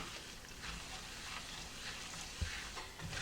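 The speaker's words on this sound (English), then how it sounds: "We're just going to allow these to simmer in the butter for 5 minutes. They're going to get nice and toasty." Pecans simmering and toasting in butter in a pan, giving a steady soft sizzle and crackle throughout, with an occasional brief knock from stirring near the end.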